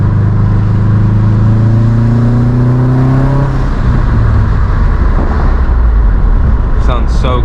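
A 2007 Subaru WRX STI fitted with a catless downpipe and Q300 exhaust revs and pulls hard, its engine note climbing for several seconds before dropping off into road rumble, with someone talking briefly.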